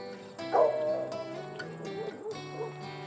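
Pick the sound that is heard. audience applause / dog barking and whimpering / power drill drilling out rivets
dog barking and whimpering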